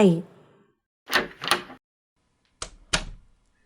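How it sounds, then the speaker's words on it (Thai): A door opens and closes in two quick pairs of thuds and knocks, each pair with a short gap between its two sounds, following a brief voice at the start. "เสียงประตูเปิดปิด"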